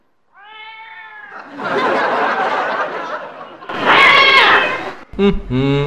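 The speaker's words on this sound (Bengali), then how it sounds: "বিড়ালের দল ঝগড়া বাঁধিয়েছে" A group of cats squabbling: a drawn-out meow opens, then harsh snarling yowls and a louder burst of caterwauling, ending in short sharp cries, all close and loud.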